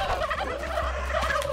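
A flock of turkeys gobbles loudly in How to Survive 2, with overlapping rapid warbling calls repeating close by and no talk.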